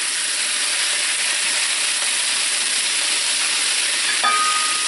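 Lamb chops sizzle loudly and steadily in a hot pan, a dense close hiss that continues alone throughout.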